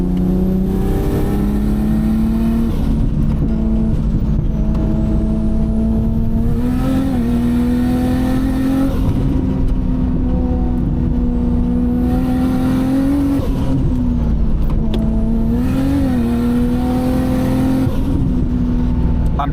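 A Nissan R32 GTR's engine drones loudly and continuously from inside the car, its pitch climbing and dipping in repeated surges as it accelerates through gears, with no talking.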